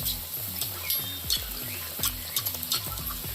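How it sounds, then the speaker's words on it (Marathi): Anarse, Diwali rice-flour sweets, fry in hot oil as it is spooned over them, making a close, constant sizzle with repeated scraping and stirring strokes, without talking. "तेल असं अनारशाला असं शिंपडायचं आणि साईडने तळतील ना अनारसे"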